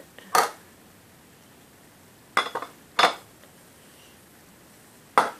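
Canned salmon is tipped from a plate into a dish, giving four separate hard clinks and clatters of dishware, with quiet pauses between them.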